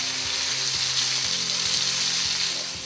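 Moray eel fillets frying in a hot pan, a steady hiss of sizzling oil with a faint low hum running beneath, continuous and close.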